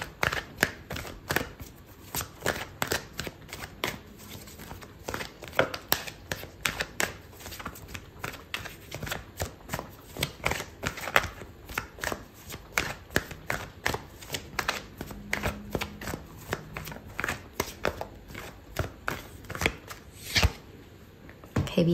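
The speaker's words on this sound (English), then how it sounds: "I'm gonna pull out another card for you" Tarot cards shuffled by hand, a long series of rapid riffling slaps and flutters in an uneven rhythm, close and crisp, before a card is pulled.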